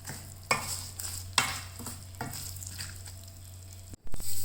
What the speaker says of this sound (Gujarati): આપણે બધું મિક્સ કરી લઈએ.